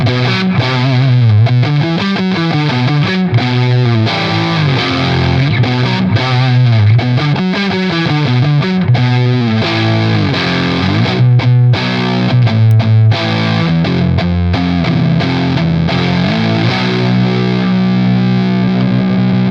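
Electric guitar driven through a Bluesbreaker overdrive into a Klon overdrive, the Bluesbreaker set high, plays a loud, steady run of chords and single notes with a thick, gritty, fuzz-like distortion, with no talking.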